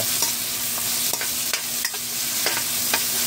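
Garlic and onion sauté in a pan for an ampalaya vegetable dish, with a steady sizzle broken by several sharp scraping stirs of a utensil against the pan, close and fairly loud, no voices.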